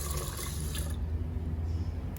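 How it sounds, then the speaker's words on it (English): Water is poured from a cup into a pot of rice for nasi lemak, giving a brief splashing pour that stops after about a second and leaves a quiet background. "so add in 1 cup of water."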